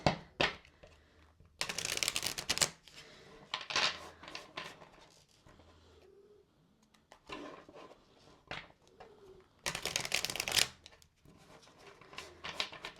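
Tarot cards are shuffled by hand close to the microphone, with bursts of riffling and flapping card noise broken by quieter stretches of soft handling and light taps.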